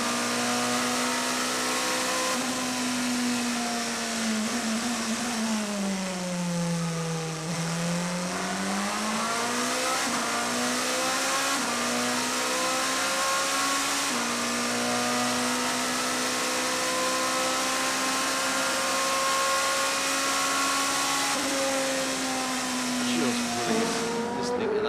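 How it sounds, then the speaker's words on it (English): A Toyota endurance race car engine howls continuously, its pitch dropping and rising through gear changes, loud and close, with commentary talk mixed underneath, at the 2014 WEC race in Bahrain. "Listening to that Toyota engine down through the gearbox"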